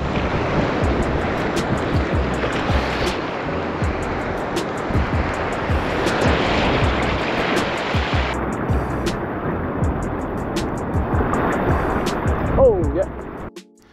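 Surf breaks and washes sand into a gutter on a beach, a continuous loud roar of waves with heavy wind buffeting the microphone throughout.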